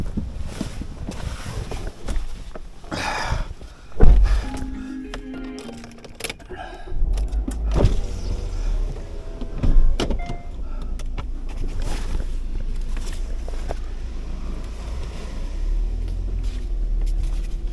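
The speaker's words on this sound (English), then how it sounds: "I'm trying to take this car out." A car stuck at a wild camping spot revs in uneven bursts, its engine rising and falling while the wheels spin, with scattered thuds and faint voices in the background.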